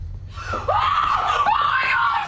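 A woman lets out a loud, sustained scream in a tense drama scene over a dead person with a slit throat, the cry rising sharply and wavering for about two seconds, close and dominant.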